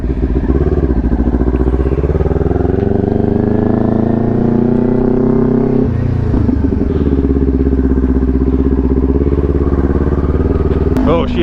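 Kawasaki Ninja 400 engine heard from the rider's seat on a test ride, a loud, constant drone whose pitch climbs steadily under acceleration, drops at a gear change, then settles into a steady cruise.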